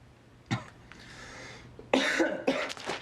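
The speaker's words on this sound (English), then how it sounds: "Your cough is annoying me." A person coughs three times in a quiet basement: one short cough, a pause, then two harsher, louder coughs close together, near and alone without talk.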